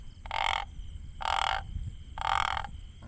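Homemade caller cast from a tin fish can, blown to imitate a mouse squeak: three evenly spaced, shrill bursts about half a second each, close and loud over a quiet background, with no talking.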